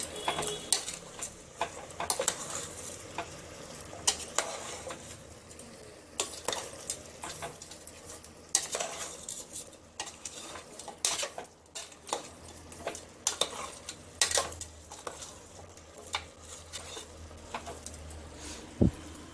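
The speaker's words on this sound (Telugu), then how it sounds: "వేసుకున్న తర్వాత ఒకసారి అంతా కలిసేలాగా కలుపుకోవాలి" Chicken curry is stirred in a pot with a spoon scraping and clinking against the metal, steady and close, over a low simmering sizzle with no talk.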